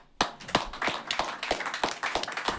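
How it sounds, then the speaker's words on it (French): A small group clapping in a studio during a talk show, sharp separate claps in an irregular rhythm, close and clear, with a few louder hits standing out and no talk over them. "Nous applaudissons"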